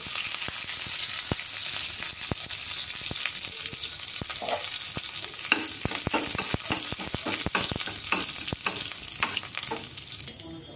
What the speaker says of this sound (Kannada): ಸಾಸಿವೆ ಎಲ್ಲ ಚಟಪಟ ಅಂತ ಇರುವಾಗ ಕರಿಬೇವು ಹಾಕೋಬೇಕು.